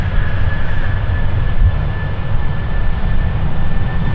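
A jet airliner departs from the Polderbaan runway 36L at Amsterdam Schiphol, a loud, continuous engine roar with a steady high whine running through it.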